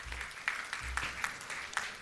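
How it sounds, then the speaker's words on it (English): Light, sparse applause at a women's leadership event, with individual claps landing at a steady rhythm over a low room murmur for about two seconds. "Please give her a round of applause."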